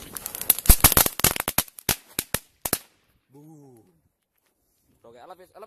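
New Year's fireworks and rockets banging in a rapid burst of sharp, loud cracks and pops, then falling silent, followed by a voice talking briefly.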